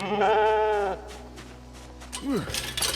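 A ewe bleats in a survival video game, a loud wavering cry up close, followed by quieter tones and a short rising-falling call.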